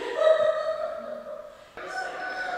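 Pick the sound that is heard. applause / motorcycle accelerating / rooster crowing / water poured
rooster crowing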